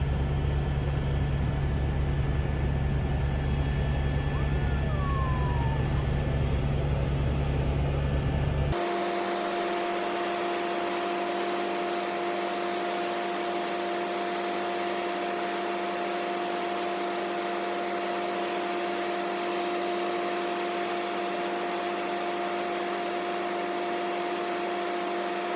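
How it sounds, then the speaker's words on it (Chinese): Helicopter flight to the Tasman Glacier, New Zealand's largest glacier: a loud, steady turbine roar and rushing wind, which settle into a sustained engine whine with a constant hum that carries on alone. "特别搭上直升机，飞上纽西兰最大的塔斯曼冰河。"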